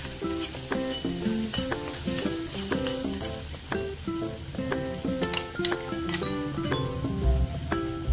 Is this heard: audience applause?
no